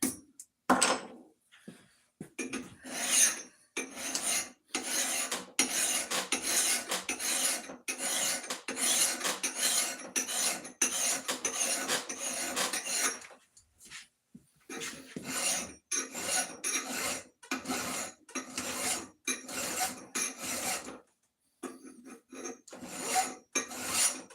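Metal file rasping across an axe head, repeated strokes in steady bursts with short pauses, fairly close and alone.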